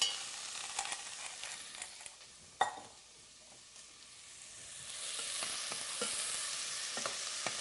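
Chopped onion and garlic sautéing in hot oil in a pan, a steady close sizzle with occasional stirring scrapes and a sharp clack, the hiss swelling louder toward the end, no talking.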